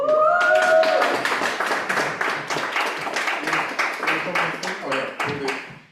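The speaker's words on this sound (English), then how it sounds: "Round of applause." Applause from an audience at a Black History Month cultural celebration, dense hand claps running steadily for several seconds, fairly close and loud, with some voices mixed in and a tonal sound at the start.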